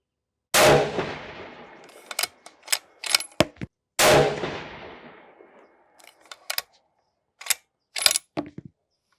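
Two loud rifle shots at an outdoor shooting range, each with a long decaying boom, followed by a run of sharp metallic clicks and clatters from working the action and handling brass. The rifle is being tested with Vihtavuori N555 powder and Federal Match primers.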